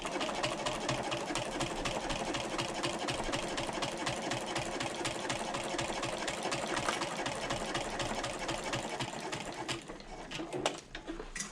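A sewing machine stitches the front exterior panel of a convertible bag, running in a fast, steady mechanical chatter for about ten seconds before slowing and stopping with a few faint clicks.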